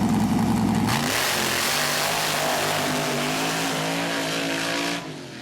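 The High Roller mud racing truck roars loudly at full throttle, its engine revving hard and climbing in pitch as it charges down the track, then dropping off abruptly near the end.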